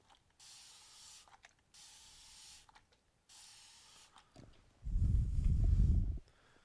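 Spray bottle misting leather before tooling: two soft hissing sprays, each about a second long, with small handling clicks between, then a louder low rustle near the end.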